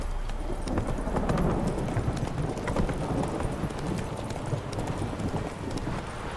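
The horse Roach gallops in the Witcher 3 video game, its hooves pounding in a dense, continuous rhythm that stays loud and close throughout.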